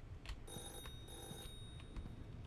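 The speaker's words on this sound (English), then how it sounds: "There's a phone ringing" Telephone ringing in the horror game The Floor is Breathing, quiet repeated bell trills heard from another part of the house over a low background rumble.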